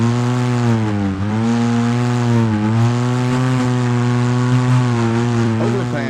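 Off-road vehicle engine in the Overpass driving game, a steady loud harmonic drone that dips briefly in pitch and climbs again, running continuously throughout.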